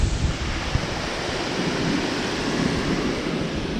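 Water rushes through the bottom of an old dam, a steady broadband roar like surf heard nearby at a fairly loud level, with some wind buffeting the microphone and no talk.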